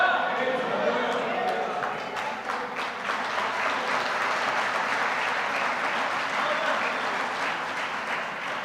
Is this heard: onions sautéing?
no